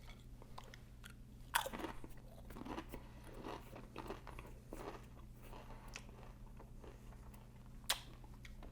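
Crunchy bites of a sweet chili heat Dorito chip, a few sharp crunches standing out among softer chewing, close and quiet over a steady low hum.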